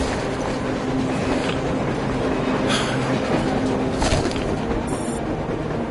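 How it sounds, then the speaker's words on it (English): A train running on the surface in Metro Exodus: a loud, continuous rumble and rattle with a few sharper metallic bursts rising briefly over the steady roar. "A train! A damn train on the surface!"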